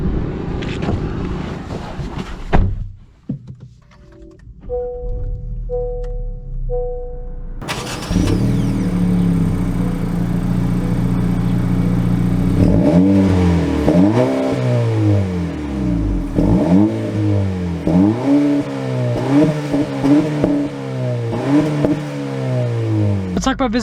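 A 2022 Honda Civic Si starting up and pulling away, its engine note climbing and falling through repeated gear changes at close range, with a voice speaking over the acceleration.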